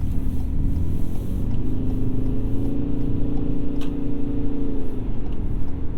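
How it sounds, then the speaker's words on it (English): Gas engine of a 2022 Ford Maverick Hybrid cutting in while driving: a steady low engine hum and drone rising slightly under road noise, heard from inside the cab with no talking. "And there's our gas motor cutting in."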